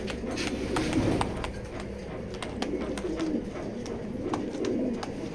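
Racing pigeons in a loft cooing in repeated, rhythmic low rolls, several birds overlapping at close range with steady soft background noise.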